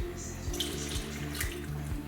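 Warm water being poured for pizza dough runs in a steady splashing stream, with a faint rhythmic low pulse beneath it throughout.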